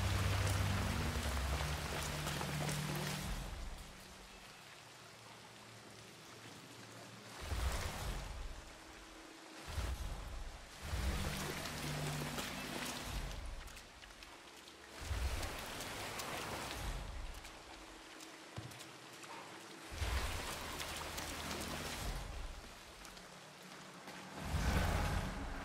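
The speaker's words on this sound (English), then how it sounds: "I'm never going out in the rain again." Rain falls in the video game Hitman 3 as a hiss of drops on hard surfaces, rising and dipping in intensity in several surges with no talking.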